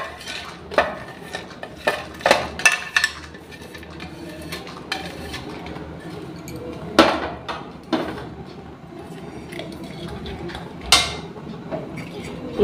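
A spoon scrapes and clinks in a pan as chironji seeds are dry-roasted over a very low flame, with scattered sharp metallic taps and stirring scrapes at an uneven pace, fairly close and without talk.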